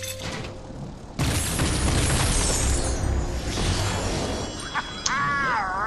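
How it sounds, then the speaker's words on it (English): A flame explosion from Ignitor's Incinerate attack in Skylanders Giants bursts in loud and sudden, followed by a sustained roaring crackle, with a brief whooshing, warbling effect near the end. "While in flame form, press A to trigger a massive explosion."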